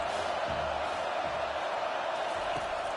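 Stadium crowd in an American football video game, a steady, dense roar of cheering fans filling the background with no clear individual voices.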